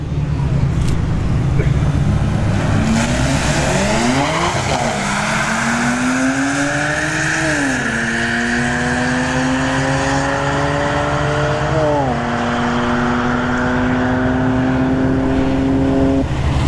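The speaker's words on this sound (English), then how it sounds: "All right, Kia K5 in the left lane. 335i at the right lane." Drag race at a motorsports park with a Kia K5 and a BMW 335i: loud engines rev and climb through repeated gear shifts, pitch rising and dropping several times as they launch down the strip, over crowd and track noise.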